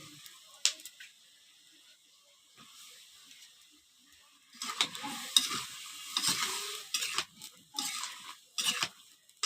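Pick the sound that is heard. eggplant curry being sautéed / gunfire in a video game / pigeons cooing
eggplant curry being sautéed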